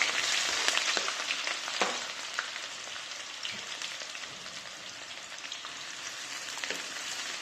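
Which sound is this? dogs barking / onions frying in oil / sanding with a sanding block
onions frying in oil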